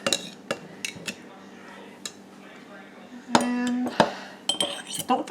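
Pineapple pieces dropped into a jar for Hawaiian cowboy candy, with sharp clinks and taps of metal utensils against glass, scattered knocks and a brief scraping rattle, close by with faint background talk.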